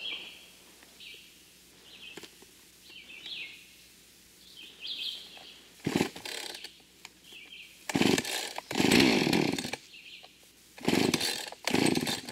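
A Husqvarna 445 chainsaw runs in bursts, revving loudly several times between quieter idle stretches, with birds chirping in the background outdoors.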